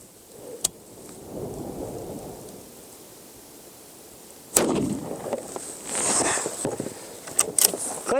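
A .308 rifle fires at thin reinforced concrete, one loud sharp shot midway with a long outdoor rumble and ringing tail, after quieter wind and a faint earlier tap.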